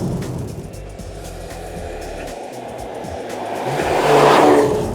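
A 2019 Mercedes-AMG A35 drives fast along roads in Mallorca, its engine a steady rushing roar that swells into a louder surge near the end, with faint tire noise and no talking.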